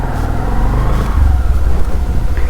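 A 2021 Bajaj CT110X motorcycle pulls away for a ride, its engine a loud, close low-pitched thrum that swells briefly as it accelerates, with wind rush over the top.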